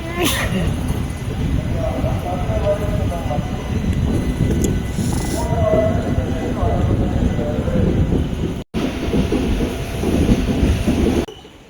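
Chennai–Madurai MEMU special express train rumbling steadily along the rails, a continuous loud clatter and drone with a brief dropout near the end, a voice faintly present beneath it.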